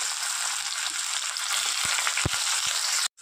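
Onion and tomato frying in hot oil tempered with whole cumin seeds, a dense continuous sizzle with a few soft knocks of a spoon, ending abruptly.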